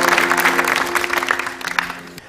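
Studio audience applause on a Moroccan television talk show, a dense wash of clapping that starts full and gradually thins out over a couple of seconds.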